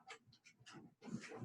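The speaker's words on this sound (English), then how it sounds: "I have a dog causing problems" Dog panting close by in quick breathy puffs, followed by a brief strained whimper, faint and without talk.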